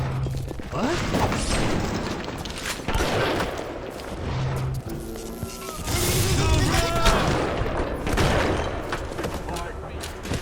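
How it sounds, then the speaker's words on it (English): Shotgun blasts in BioShock ring out several times, loud booming reports amid a dense, busy game soundscape with other combat noise and a voice speaking over it. "The shotgun is really satisfying to use."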